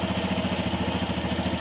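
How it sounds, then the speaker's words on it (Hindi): Hero Xtreme 160R motorcycle engine running steadily right after starting, a close, even low-pitched idle throb with a regular pulsing beat and no voices over it. "चलिए अब हम आपको स्टार्ट कर रहे हैं बाइक को।"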